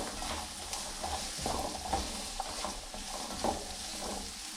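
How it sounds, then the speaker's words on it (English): Potatoes and serrano peppers fry in a pan while being stirred, a steady close sizzle with repeated scraping strokes of the utensil in an irregular rhythm. "Then we're gonna add the potatoes and the serrano peppers. Okay, mix that around for a little bit."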